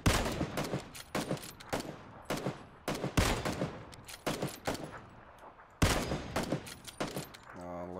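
Gunfire in PUBG: rapid bursts of sharp shots in several volleys, loud and close, with brief voices between them.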